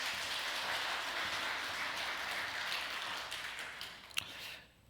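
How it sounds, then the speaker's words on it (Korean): A church congregation applauds, a dense, even patter of many hands clapping that holds steady, then tapers off and fades at the end. "다시 한번 박수하겠습니다."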